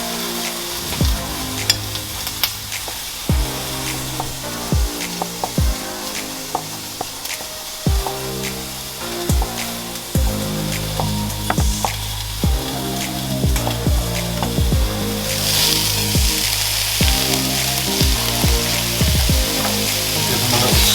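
Quartered shiitake mushrooms and caramelising onions fry in a stir-fry pan, a constant close sizzle broken by sharp, regular clicks and scrapes of stirring, growing louder near the end.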